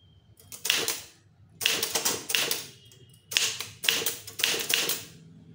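A typewriter tapping out Tamil text for an official secretariat letter gives close, crisp bursts of rapid keystrokes in four separate runs, with short quiet gaps between them.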